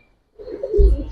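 A crested, feather-footed silver pigeon gives one low, close coo that swells and then fades, after a brief silence at the start.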